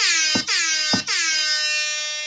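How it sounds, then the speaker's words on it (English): A loud, sustained air horn blares three times in quick succession, the last blast held longest. "got to hit the air horn when you do Jersey Friday"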